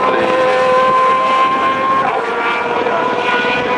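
A Peugeot race car, number 7, passes the pits during the 2009 24 Hours of Le Mans, its loud engine roaring close by with a high steady tone that slowly drops as it goes past.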